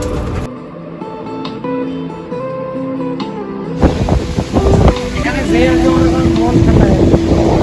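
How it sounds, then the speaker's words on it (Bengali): Strong wind buffets the microphone beside a riverside regulator, a steady roaring gust that swells louder partway through, with people talking over it. "সেই বাতাস বাপরে বাপ"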